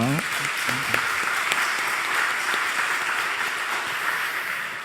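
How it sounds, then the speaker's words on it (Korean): A Korean church congregation applauds its praise team during a Sunday worship service, steady group clapping lasting several seconds with a voice briefly audible at the start. "우리 격려의 박수 한번 해줄까요?"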